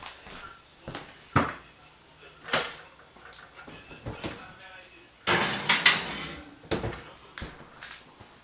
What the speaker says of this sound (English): So I'm going to take the potatoes and I'm going to put them in the oven